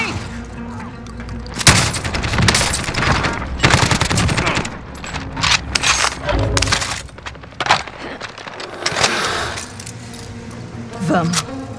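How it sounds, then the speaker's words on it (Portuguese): Gunfire in Call of Duty Warzone, loud bursts of rapid automatic shots and sharp cracks that come in clusters, with voices talking over the shooting. "Estão atirando em mim!"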